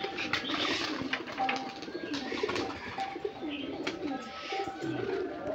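Giribaz pigeons, including a female, coo softly nearby in repeated low calls, mixed with light chirps and faint background noise.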